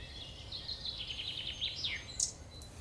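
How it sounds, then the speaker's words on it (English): A small wren sings in a winter garden, a quick run of high, bright trills and chirps followed by a couple of sharper notes, moderately close against quiet background noise. "You hear that sound? It's a little wren."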